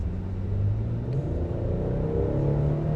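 A 2025 Nissan Frontier's 3.8 engine with a 9-speed transmission revs at quarter throttle, a steady close rumble that climbs slightly in pitch and holds, with no talk over it.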